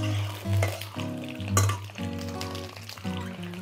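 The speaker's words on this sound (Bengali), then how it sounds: "শুরুতে আমি আগে পটলগুলো 3 ভাগ ভেজে নেব, সামান্য একটু হলুদ আর নুন দিয়ে।" Pointed gourd (parval) pieces frying in oil with turmeric and salt, giving a close crackling sizzle with stirring clatter over a low steady hum and tonal background sounds, no talk.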